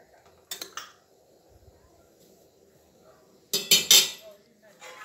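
A metal spoon clinks against a pot while shengole, a Marathi dish, is stirred, with one short clatter early on and a louder cluster of sharp knocks later, separated by quiet stretches.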